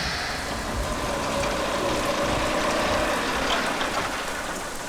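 Steady rain pours down outdoors at night in a city street, a dense continuous hiss with faint traffic rumble underneath and no voices.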